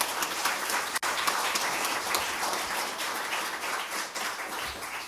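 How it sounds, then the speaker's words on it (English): A round of applause at a first responder awards ceremony for a councilwoman, a dense burst of clapping from a moderate crowd that runs continuously and fades slightly toward the end. "Round of applause for the Councilwoman."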